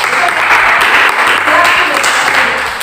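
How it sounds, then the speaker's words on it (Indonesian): A class of students applauds during a chemistry lesson, dense and loud clapping that carries steadily through the whole stretch with a few voices mixed in. "kita beri tepuk tangan"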